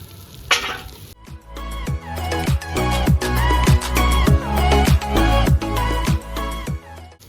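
Gongura (sorrel leaves) is stirred into prawns frying in a pan, giving a loud steady sizzle broken by repeated rhythmic clanks and scrapes of a spoon against the metal, heard close with no talking.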